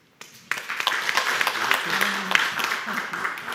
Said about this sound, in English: Firstly, a big round of applause.